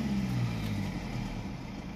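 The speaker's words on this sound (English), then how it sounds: "We'll let it idle down." Mercedes E Class 2.0 diesel engine settling toward idle, a steady low rumble at close range that eases slightly in loudness, with a faint tonal hum near the start and no talk.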